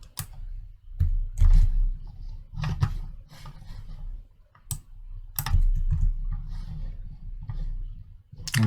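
Computer keyboard typing as search conditions are entered into a medical data query tool, with irregular bursts of close, crisp key clicks separated by short pauses over a low background hum, and no talking.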